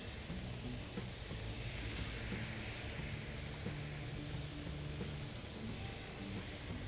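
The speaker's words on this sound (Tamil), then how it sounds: "ஒரு கரண்டி மாவு எடுத்து வெளிப்பக்கத்துலேருந்து அப்படியே ஊற்றுங்க." Rava dosa batter poured onto a hot pan, a dense continuous sizzling hiss that holds steady and close throughout with no voices.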